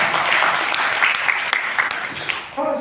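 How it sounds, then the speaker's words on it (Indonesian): An audience at a regional work meeting breaks into sustained applause, a dense crowd clatter that holds steady before trailing off as a voice begins. "Tepuk tangan buat itu"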